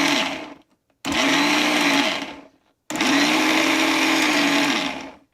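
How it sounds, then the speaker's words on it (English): An electric grinder whirs loudly while grinding coconut chutney, running in three separate bursts with short pauses between them, the steady motor drone dipping slightly in pitch under load. "I'm going to grind it again"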